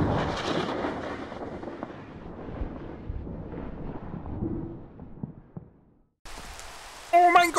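Rain pours steadily onto a raft in a video game, a dense broadband hiss that fades toward the end before a sharp, bright burst of other sound cuts in. Speech-like sounds mix in at points.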